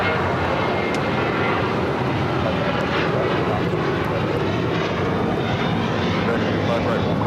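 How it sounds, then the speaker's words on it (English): A Philippine Airlines Boeing 777-300ER arrives at LAX from Manila, its engines making a loud continuous roar, with someone talking over it. "Philippine, flight 102 of the 777-300ER coming in from Manila"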